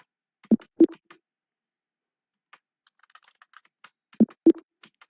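Computer keystrokes land on a keyboard during TallyPrime data entry: two sharp clustered presses, a scatter of faint light taps, then two more firm presses, close and isolated against silence.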